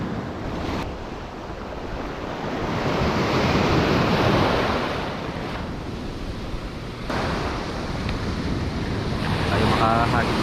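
Wind blows steadily across a beach where people are fishing, a loud, broadband roar mixed with surf that swells and eases over about ten seconds.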